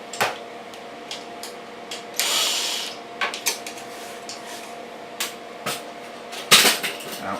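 Wrench clicks and metallic clinks from radiator bolts being backed out on a Kawasaki KX125 motocross bike during a top end rebuild, a series of short sharp ticks and rattles spread irregularly over a quiet shop background.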